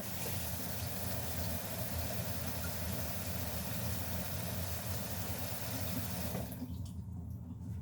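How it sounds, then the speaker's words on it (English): Tap water runs steadily over the bottom of a hot cooking pot, a continuous rushing splash with a low hum underneath that cuts off abruptly near the end. "rinse the bottom of the pot under cool water"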